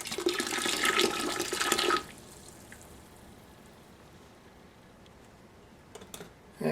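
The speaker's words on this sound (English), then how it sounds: "we've got all the jars taken out of the hot water, or out of the boiling water" Half-pint glass jars are lifted out of boiling water, with a loud rushing, splashing pour for about two seconds. Then a quiet steady background follows, broken by a few light clinks near the end.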